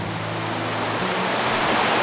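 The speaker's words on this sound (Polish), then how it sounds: "tutaj sobie znowu płynie strumyczek zwolna" Small stream flowing steadily, a dense continuous rush of water heard up close with no break.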